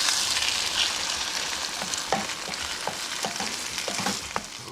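Eggs and potatoes sizzle in a pan as a scramble cooks at a campsite, a steady close hiss with occasional scraping stir clicks, no one talking.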